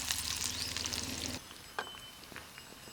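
Onion hits hot oil in a kadhai, bursting into a loud, bright sizzle that settles after about a second and a half into a quieter crackle with occasional pops.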